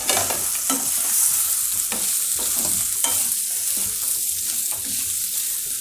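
Chopped vegetables roasting in hot oil with asafoetida, a loud continuous sizzle broken by repeated scraping stirs of a spatula in the pan, close up with no voices.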